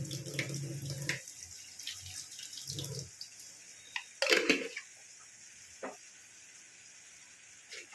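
Water poured into a pot of aar fish kaliya already seasoned with jaggery, first a low gurgling stream, then a brief louder splash midway, then quiet dripping.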